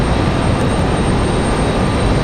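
An Embraer E175 airliner arriving from Orlando at Raleigh Durham, a loud close broadband engine roar with a high whine on top, steady and unbroken with no voices.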